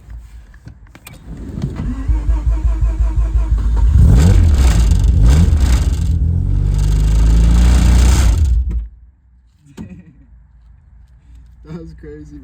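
Engine of a Mazda RX-7 (FC) rotary cranking and firing up after front cover O-ring work, then running loud with a rough, vibrating rumble for several seconds before cutting off; voices talk over parts of it.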